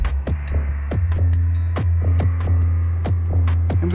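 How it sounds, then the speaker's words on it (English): A spring reverb echo box effect from an iOS app turns sharp rhythmic plucks into a repeating echo pattern over a constant low hum, with each hit trailing into a metallic decay. "This echo box is wonderful."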